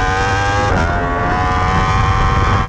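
A racing motorcycle exits a chicane in third gear and accelerates hard, its loud, close engine note climbing steadily with a brief shift break early on, no talk.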